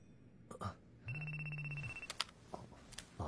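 A telephone rings with a sustained electronic trill, loud and close, over a quiet room with brief soft sounds before and after.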